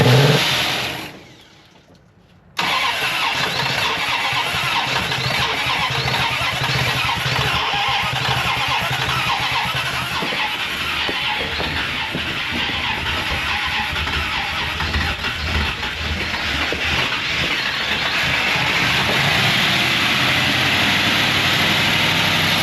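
A 383 V8 in a Chrysler Newport left abandoned for four decades runs rough after a brief cut-out at the start, a steady loud droning engine note with uneven pulsing that holds near and continuous, no talk over it.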